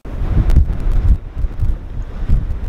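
Strong gusting wind across the open Nebraska prairie, buffeting the microphone in loud, uneven bursts that rise and fall over a few seconds, with no voices heard.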